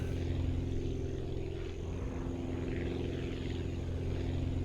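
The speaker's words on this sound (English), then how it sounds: "Good takeoff, barely clearing the trees, but why fly any higher than I absolutely have to?" Propeller aircraft taking off in the flight-building game Aviassembly, a steady, loud engine drone with a constant low hum and whine that holds evenly throughout, with no voices.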